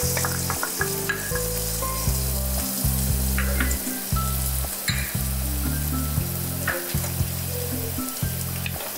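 Garlic sizzles steadily in hot oil in a wok, a continuous crackling fry that carries on alone over a low, steady music bed.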